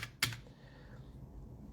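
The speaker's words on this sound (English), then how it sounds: "These I actually like typing on this keyboard" A Drop CTRL mechanical keyboard gives a single sharp, clacky keystroke up close, followed by quiet room tone.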